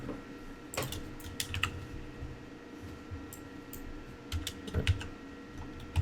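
Computer keyboard typing at close range while configuring an ESXi lab server: scattered bursts of key clicks with short pauses, fairly quiet, no talking.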